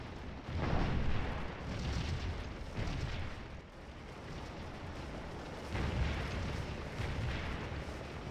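Artillery fire in an alternate history war video game battle near a cornfield, distant rumbling booms and bursts rolling continuously at moderate level, with no talk heard.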